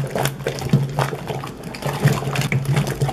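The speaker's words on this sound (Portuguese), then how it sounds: "Vamos dar mais uma mexidinha." Homemade liquid laundry soap with a lavender fragrance being stirred in a large batch, a continuous, close sloshing and swishing of thick liquid with a faint hum beneath.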